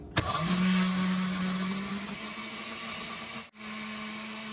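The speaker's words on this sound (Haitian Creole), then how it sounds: "tout ingrédient yo gen dans blender, m'a bouché et puis moi pral blender" A blender whirs loudly at high speed, its motor pitch settling and dropping slightly, then cuts out briefly before starting again.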